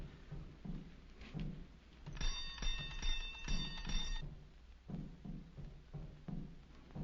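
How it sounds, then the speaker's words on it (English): A door bell in an old pre-1950s horror comedy film rings with a bright, ringing tone for about two seconds, sounding in the middle of muffled thumps and footsteps in a quiet, low-fidelity scene. "You ring the bell."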